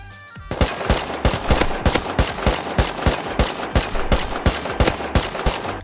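Automatic gunfire in the video game Rust, a loud, rapid burst of evenly spaced shots that starts after a brief pause and carries on without let-up.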